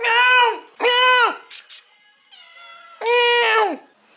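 A cat meows loudly and close by, three long drawn-out meows with brief quieter sounds between them.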